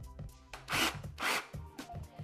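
An electric drill, set without hammer action, bores into bathroom wall tile in two short whining bursts over a low motor hum, close and fairly quiet, with no talking.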